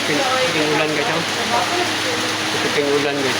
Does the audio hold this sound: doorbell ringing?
no